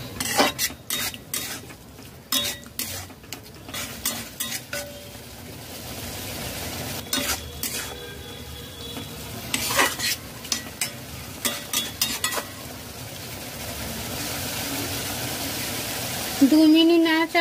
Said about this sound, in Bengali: দু মিনিট নাড়াচাড়া করে নিয়েছি